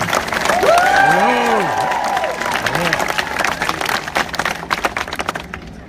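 A crowd at an outdoor interfaith prayer vigil cheers and applauds, with whoops and shouted voices rising at first and then settling into a steady wash of clapping that fades near the end.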